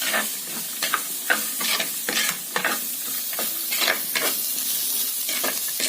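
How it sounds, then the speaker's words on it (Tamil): Ingredients for white kurma are sautéed and stirred in a clay pot, with a loud, close sizzle broken by repeated rhythmic scraping strokes of the spoon. "இப்போ வதக்கிற பாருங்க."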